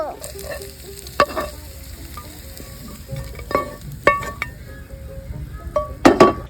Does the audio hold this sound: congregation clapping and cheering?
no